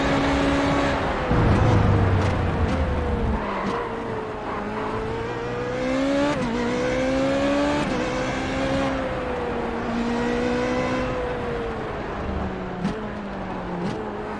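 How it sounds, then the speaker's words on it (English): A Renault 3.5 Formula car's V8 engine in the iRacing simulator, loud and steady, with clear harmonic tones rising and falling through gear changes and shifts in revs, and no talking over it. "have a listen to that beautiful V8 noise"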